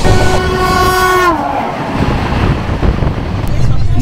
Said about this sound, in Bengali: ট্রেনটা কামাখ্যা থেকে ছেড়ে আসছে, যাবে হচ্ছে মুম্বাইয়ের লোকমান্য তিলক টার্মিনালে